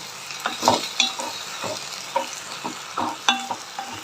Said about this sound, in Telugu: ఇప్పుడు బాగా ఎంత వేగేలాగా వేపుకున్నాం ఆకులు అంతా